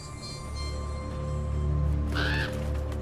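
A single harsh bird caw rings out near the end over a steady low hum and background tones in the video game Draugen.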